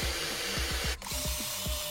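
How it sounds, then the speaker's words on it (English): A brass bristle brush scrubs black corrosion off an aluminum block in fast, regular back-and-forth strokes, loud and close, with a brief pause midway. "I'm gonna try this brass bristle brush on it."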